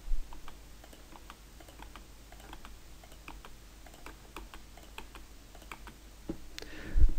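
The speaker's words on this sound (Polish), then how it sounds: "klikając na kolejnym i wciskając klawisz F4, który powtarza ostatnią operację." A few light, sparse computer keyboard key presses click faintly and close by against a quiet background, ending with a soft thump.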